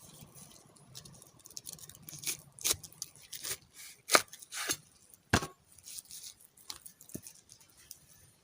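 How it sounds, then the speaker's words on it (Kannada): A knife cuts through a ripe pineapple for a salad, making a series of irregular, crisp chopping and slicing strikes close by with quiet pauses between them. "ಇವಾಗ ಮೊದಲಿಗೆ ಈ ಅನಾನಸನ್ನು ಕಟ್ ಮಾಡಿಕೊಳ್ಳು"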